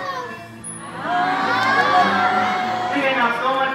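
Children at a school event cheer and shout for a guest, a burst of excited young voices swelling after a quieter moment and holding loud to the end.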